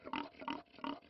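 Pigs on a farm near Agadir give three rhythmic grunting oinks, evenly spaced and close, each a short nasal burst with quiet pauses between them.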